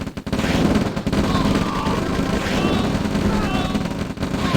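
Gunfire aimed at an APC in the real-time strategy game OpenRA Red Alert, a steady crackle of small-arms and machine-gun fire with occasional heavier thumps, continuous and fairly loud, while someone talks over it.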